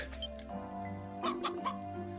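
In the video game Ys: Memories of Celceta, a brief cluster of quick chicken clucks sounds over quiet, sustained game music, with a faint chirp near the start.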